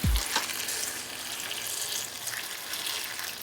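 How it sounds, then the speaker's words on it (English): A steady, close sizzle of mushrooms cooking in filtered water in a hot pan, with a bubbling, watery hiss throughout and a brief knock at the start. "we literally are boiling the mushrooms in their own juices and letting it evaporate into the mushroom"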